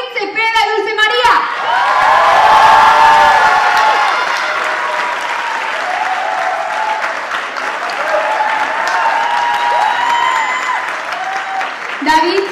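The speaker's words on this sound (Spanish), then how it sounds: "Un fuerte aplauso a David Cepeda y Dulce María" A crowd gives loud sustained applause with cheers and whoops for actors David Zepeda and Dulce María at a telenovela presentation, with shouting voices rising over the clapping throughout.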